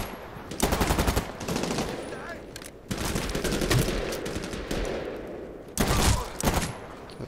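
Rifle and automatic gunfire in the video game Medal of Honor: Warfighter, loud bursts of rapid shots in several volleys with someone talking in between.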